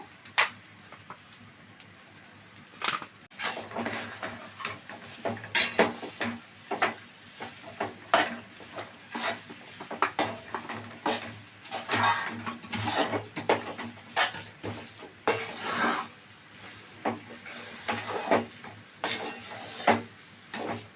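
A spoon stirs a mixture with ghee in a pan, producing repeated scraping strokes over a soft sizzle, close and steady with no talk.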